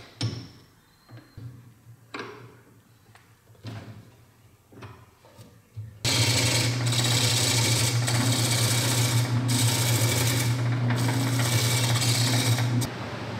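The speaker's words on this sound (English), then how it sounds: "I'm good for doing some of the finer turning" A wood lathe spins up mid-way and runs steadily for the rest of the clip, turning a part for a steampunk stool. Before it starts there are scattered knocks and clicks from setting up.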